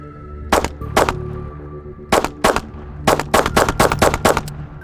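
Pistol shots from a Glock 43X or 48 fed from a Shield Arms 20-round magazine, about a dozen loud, close cracks, first spaced singly, then in quick strings with brief pauses.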